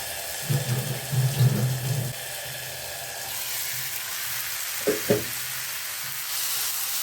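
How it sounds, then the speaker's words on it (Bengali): Water poured into a pan of fried-down singi fish curry, a brief gush with a hiss of steam, then settling to a quieter simmering sizzle with a couple of soft clunks, close by. "কষানো হয়ে গেছে, এবার আমি এখানে জল দিয়ে দিলাম"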